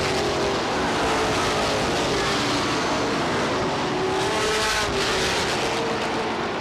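Race cars roar around the Star Speedway track in 1994 with a dense, continuous engine drone that swells slightly as the pack passes close by.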